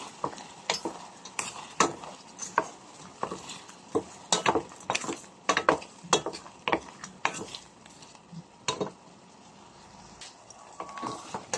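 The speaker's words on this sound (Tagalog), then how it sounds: "Tapos i-mix. Mix lang ng ganin." A utensil stirs garlic butter shrimp sauce in a pan, giving irregular clinks and scrapes against the metal over a quiet background, with no voices.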